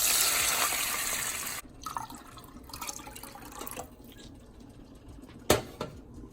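Water poured from a container into a pot for Dominican rice, a steady splashing stream for about a second and a half, then quieter drips and trickles in a home kitchen, with one sharp clink near the end.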